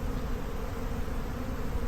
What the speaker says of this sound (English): flying bees will all come back and come right back to the entrance